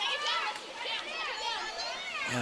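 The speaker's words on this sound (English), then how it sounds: "The local girls, a bit of a cheer from the crowd" Spectators at a girls' water polo match cheer in high voices for the local team, a lively chorus of shouts heard faint and somewhat distant.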